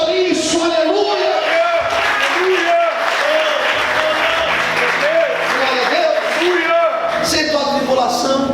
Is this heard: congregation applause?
yes